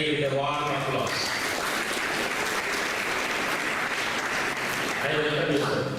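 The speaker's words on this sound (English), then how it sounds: "our principal, Dr. Srinivas Mayadi, with a warm applause." Warm audience applause at an engineers day celebration, a dense sustained wash of clapping lasting several seconds, with a voice speaking briefly before it rises and again as it fades.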